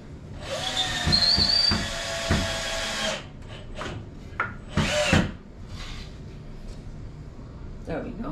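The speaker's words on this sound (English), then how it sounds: "This is not a strong drill, that's why I'm using it, because we don't need anything strong." A light-duty power drill whirs in several bursts while the base of a Christmas village is assembled, with short spins and a longer run up close, and people talk over and between them.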